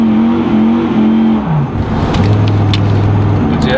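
A Dodge Ram SRT-10 pickup under throttle on a wet road gives a loud, steady exhaust drone with wavering engine tones as the wheels spin and lose grip.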